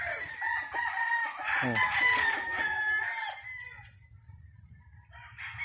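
A gamecock rooster on a game farm crows loudly and close by in one long, strained call, with clucking and other fowl in the background and a brief exclamation from a person.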